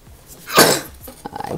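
A single sharp sneeze bursts out close by, then a few soft throaty sounds follow.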